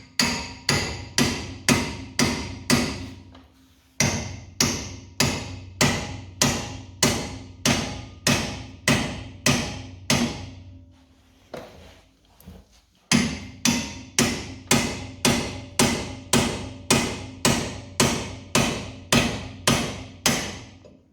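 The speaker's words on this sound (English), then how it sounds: "Now we use the tool, just put it in and hammer it through until something breaks." Repeated heavy hammer blows on a tie rod separator tool while replacing a Lada's tie rod, loud and close, in steady rhythmic bursts with two short pauses between series.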